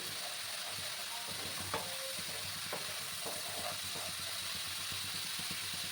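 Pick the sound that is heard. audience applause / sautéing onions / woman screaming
sautéing onions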